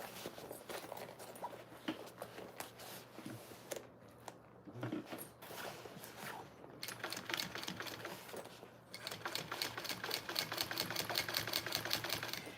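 A sewing machine stitches binding onto a backpack in quick, rapid bursts of rhythmic needle clatter, quiet and close, with short pauses and a longer continuous run near the end.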